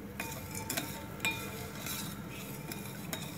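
Spoon stirring powdered sugar and cardamom into cow colostrum milk in a pot, with soft scraping and occasional light metallic clinks in an irregular rhythm, quiet and close, heard alone.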